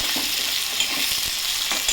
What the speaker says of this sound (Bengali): আলুটা হালকা ভাজা হয়ে গেছে